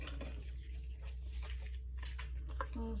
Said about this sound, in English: I'm going to cut that right here.